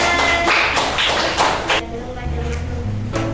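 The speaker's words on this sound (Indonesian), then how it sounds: "beri tepuk tangan" Fifth-grade pupils in a classroom give brief bursts of clapping, a few quick rounds of taps in uneven rhythm, with voices and room noise between them.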